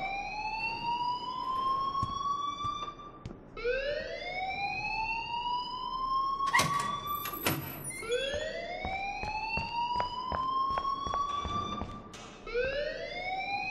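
A loud alarm sounds in the video game Life is Strange, rising in repeated whooping sweeps about every three to four seconds, each climbing in pitch, with sharp clicks and clatter between them and no voices.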